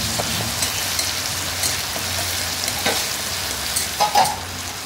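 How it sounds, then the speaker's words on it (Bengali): Ginger garlic paste frying in hot oil, a close, even hiss and crackle that carries on without a break, with the odd stir or scrape near the end. "আদা রসুনের পেস্টটাকে যতক্ষণ না তেল ছেড়ে আসছে মশলা থেকে ততক্ষণ ফ্রাই"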